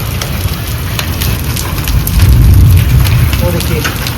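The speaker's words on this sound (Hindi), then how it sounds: "कितने मोटे मोटे ओले पड़ रहे हैं।" Heavy rain pours down with large hailstones, a loud dense roar of drops and scattered sharp impacts that swells midway, with a voice talking over it.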